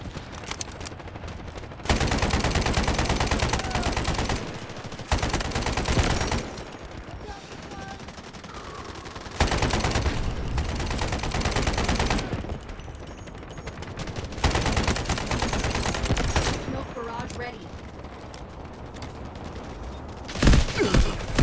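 M250 machine gun fire in the shooter game Delta Force, loud sustained bursts separated by short pauses, repeated several times across the stretch.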